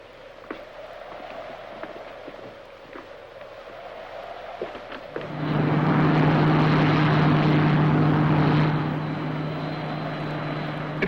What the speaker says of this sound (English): a Space Ranger ship is landing